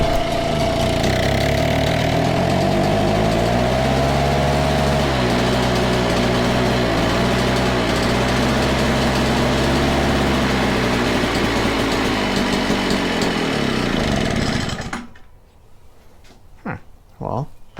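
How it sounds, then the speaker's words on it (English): An Echo PB413H leaf blower engine that will not rev up runs loud and steady with a wavering buzzing drone for about fifteen seconds, then cuts out, leaving a few faint clicks and knocks. "let it run for about 5 minutes on about half throttle."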